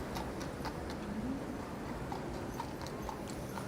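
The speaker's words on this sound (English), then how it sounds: "Lots of horse and carriages out tonight." Horse-drawn carriage hooves clip-clop on a New York City street on Christmas night, a steady rhythmic patter of hoofbeats set back in busy street ambience.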